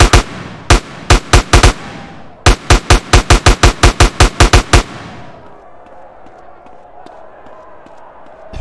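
Rapid bursts of gunfire from a gun in GTA San Andreas: a string of loud, sharp shots, a pause, then a longer quick volley, before a quieter ambient tail.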